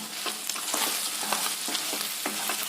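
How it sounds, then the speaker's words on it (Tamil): Chicken fry with ground masala is stirred in hot oil in an uncovered pan, a steady loud sizzle broken by repeated scraping strokes of the spoon at a close, even rhythm. "சேர்த்திட்டு மூடி போட்டு மூடாதீங்க, ஓப்பன்ல விட்டு 3 நிமிஷம் நல்லா கலக்கி விடுங்க."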